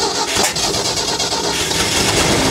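The small gas engine of a 1990s tracked auger machine, parked for over ten years, sputters and catches nearby, running rough and loud with a choppy, pulsing rhythm.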